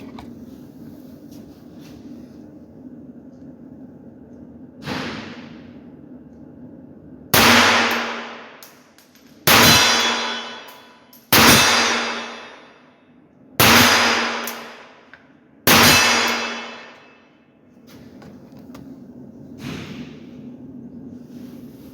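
A Hammerli 200 Olympic semi-automatic target pistol fires .22 short rounds: one shot, then five sharp cracks about two seconds apart, each with a short decaying tail over a low background hum.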